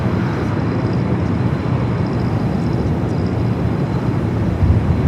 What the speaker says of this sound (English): Bringing over the American 777-300ER.